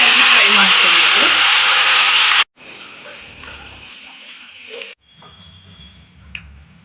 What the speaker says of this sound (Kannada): ರುಬ್ಕೊಂಡಿರುವ ಈರುಳ್ಳಿ ಮತ್ತೆ ಟೊಮೆಟೊ ಪೇಸ್ಟ್ ಅನ್ನು ಹಾಕೊಂಡು ನೀಟಾಗಿ ಫ್ರೈ ಮಾಡ್ಕೊಬೇಕು